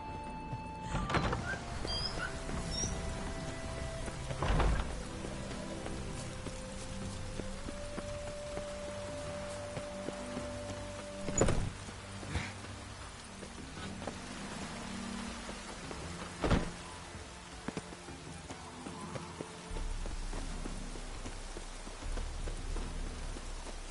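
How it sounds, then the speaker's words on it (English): Rain falling in a PS4 video game, a steady soft patter of drops on surfaces with occasional faint knocks, no voices. "No use doing any work in this rain."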